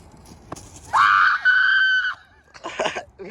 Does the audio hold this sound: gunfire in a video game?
no